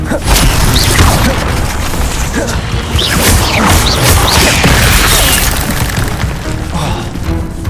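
Booming, crashing impacts and whooshes of spellcasting, including the Incendio fire spell, in the Hogwarts Legacy video game, with a loud, continuous wash of combat effects throughout.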